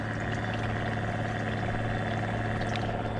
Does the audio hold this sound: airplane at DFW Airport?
no